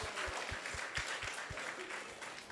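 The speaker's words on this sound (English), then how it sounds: "let's give them a big round of applause" Faint applause from a small gathering at a Krishna Katha discourse, a soft patter of hands with a few distinct low thumps, heard at a distance and fading slightly toward the end.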